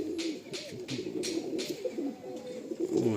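A Madrasi pigeon, an old-line bird, coos steadily at close range in a series of soft low coos, with a few brief rustling bursts mixed in.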